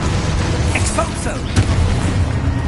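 An Expulso explosion spell goes off in Hogwarts Legacy, a loud, sustained blast with a deep rumble and crackling bursts that stays heavy throughout.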